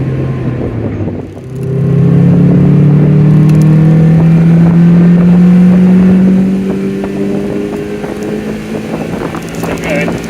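A Mazda MX-5 Mk2 1.8 engine climbs steadily in pitch through a long, loud rev, holding high for several seconds before easing off, with wind noise around it.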